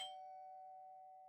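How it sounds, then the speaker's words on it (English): A doorbell in an interactive horror story gives a single clean electronic tone that rings out and sustains evenly, fairly faint, with a brief bright attack at the start. "I guess the doorbell just rang"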